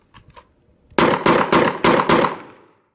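Five quick handgun shots ring out at a target on a shooting range, evenly spaced within about a second and a half, loud and sharp with a brief fading tail.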